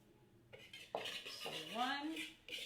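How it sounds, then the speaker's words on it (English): Whisk clinking and scraping against a bowl as dry ingredients are worked into wet batter for carrot, zucchini and scallion fritters; irregular metallic taps and strokes up close, with a brief voice mid-clip. "I'm going to add my dry ingredients to the wet and gradually whisk."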